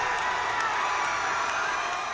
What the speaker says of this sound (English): That's a live crowd. That's from Hall H last year.